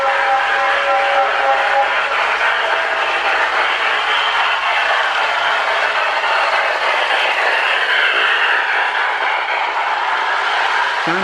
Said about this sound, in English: Sound of steam unit's pretty loud.